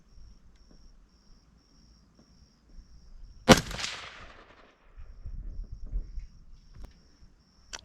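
AR-15 rifle fired once from a shooting bag outdoors while sighting in a scope: a single sharp, loud crack with a quick decaying echo over faint insect hum and quiet handling noise.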